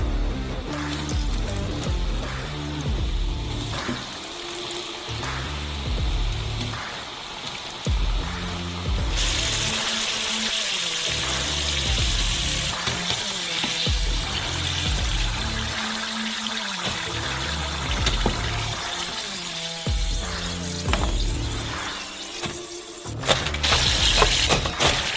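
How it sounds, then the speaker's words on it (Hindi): French fries fry in hot oil with a continuous loud sizzle and bubbling hiss, growing brighter and fuller partway through and staying steady to the end. "अंत में हमारे वीआईपी फ्रेंच फ्राइज को भूनेंगे"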